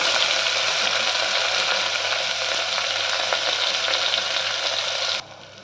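Onions, ginger garlic paste and tomatoes fry in a pan for a cucumber and tripe curry, giving a loud, continuous close-up sizzle with faint stirring scrapes that holds steady before dropping off abruptly near the end.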